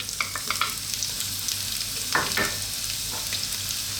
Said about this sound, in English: Let's start off by dropping in that onion